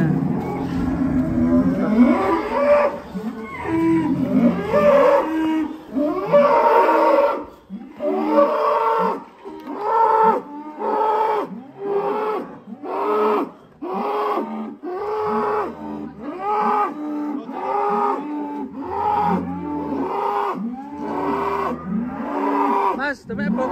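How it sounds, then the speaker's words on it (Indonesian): Jumbo cattle, including Brangus, moo over and over in a barn at a cow contest, with deep, drawn-out calls coming one after another in a steady rhythm, close and loud, and faint crowd voices underneath. "Wah, keren ya sapi-sapinya."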